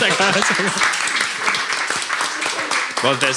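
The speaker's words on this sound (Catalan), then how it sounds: "Bueno, pues un aplaudiment" Applause from a small audience at a casual music show, clapping under prominent overlapping speech and laughter from the hosts.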